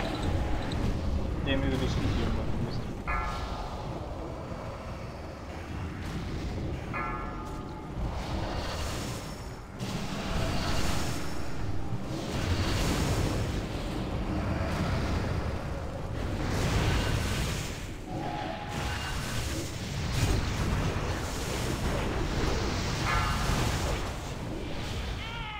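Continuous booming blasts and rumbling explosions from a game fill the clip, dense and loud throughout, with a voice talking over the action.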